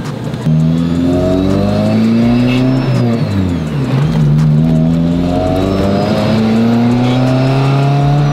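Honda car with a manual clutch driving and revving, its engine note climbing and dropping through gear changes, loud and close throughout with no talk over it.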